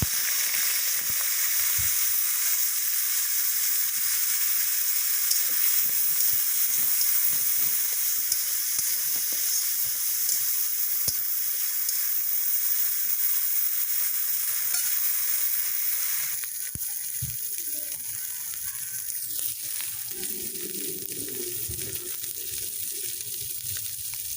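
Shrimp with banana stem frying in a pan, giving a steady, even sizzle and hiss that continues throughout, softening and changing texture partway through.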